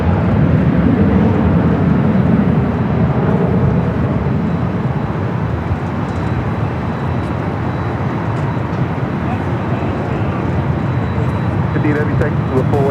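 A heavy jet rolls on runway 24 Left at Los Angeles airport (LAX), a broad, loud, steady engine roar filling the scene, with voices talking over it.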